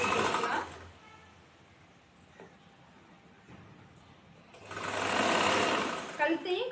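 Sewing machine stitching a chudithar with strong seams, running in two loud, close bursts separated by a quieter pause with faint handling noises.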